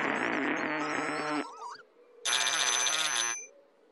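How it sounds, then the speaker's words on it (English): A bright, musical toy-like cartoon telephone ring, the troublephone from In the Night Garden, sounds in two loud bursts separated by a short pause with a whistling slide between them. "Mr. and Mrs. Wattinger, the troublephone is ringing"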